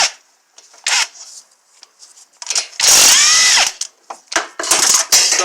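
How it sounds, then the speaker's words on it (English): An electric impact gun removes catalytic converter bolts on a 2005 Pontiac G6, firing in several short loud bursts with a longer hammering run in the middle, close up, separated by brief quiet gaps. "I just want to know if I can run them off with the impact gun."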